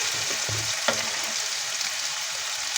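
Potatoes sizzle steadily in a pan with oil and turmeric, a close, continuous frying hiss broken by a few soft stirring scrapes near the start.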